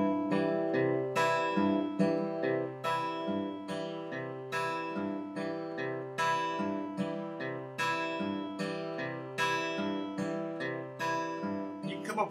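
Travis picking on an acoustic guitar with the thumb alternating on strings 2 and 4, an even bouncing rhythm of plucked notes that keeps going throughout at moderate volume, with no talk over it.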